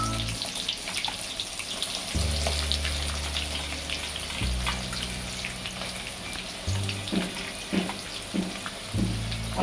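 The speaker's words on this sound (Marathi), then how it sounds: "आपण परतून घेऊया कांद्याला जरा." Chopped onion sautés in a pan with cumin, bay leaf, cinnamon and cloves for cabbage rice, a continuous close sizzle with a hissing, watery texture and a few faint clinks and stirring touches near the end.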